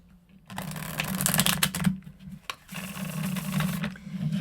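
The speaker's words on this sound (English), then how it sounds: "That was a horrible shuffle." Riffling tarot cards, a brisk rapid flutter repeated in two bursts with a short pause between, close and fairly loud with no talking.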